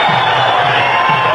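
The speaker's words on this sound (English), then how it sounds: "he's got this crowd going once again." A large cricket crowd at a one-day international roars in a continuous loud wash of cheering and shouting, with no break across the moment.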